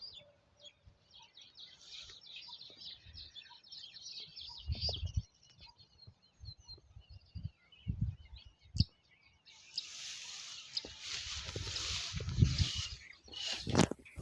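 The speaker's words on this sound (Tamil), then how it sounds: "குருவி சத்தம் எப்படி கேட்குது பாருங்கள்." Sparrows chirping in an open field with palm trees, faint scattered calls over a quiet outdoor background, growing into a denser burst of twittering near the end.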